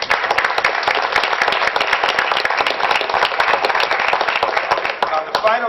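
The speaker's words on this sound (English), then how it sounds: "I think they deserve a round of applause" Sustained, loud applause from an audience at a school board of education meeting, honoring a group of students; steady dense clapping throughout with faint voices underneath.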